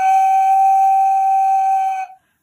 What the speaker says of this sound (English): when you blow, pretend that you're blowing out a candle